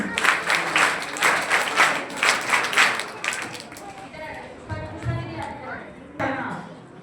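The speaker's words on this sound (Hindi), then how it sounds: "एक बार सभी बहनों के लिए बड़ी ताली करूं" A crowd claps for students at an annual exam results ceremony, the applause rising in loud rhythmic bursts for about three seconds before thinning into scattered claps under a speaker's voice.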